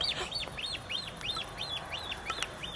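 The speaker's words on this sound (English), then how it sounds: "There's a bird." Outdoors in Holland, a bird repeats a rapid series of high, arching chirping calls at an even rhythm, clear and fairly close over a faint background hush.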